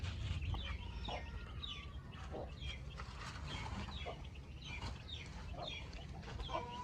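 A hen and her chicks cluck close by, the chicks peeping in short repeated high calls over a low steady background, with a little soft talking.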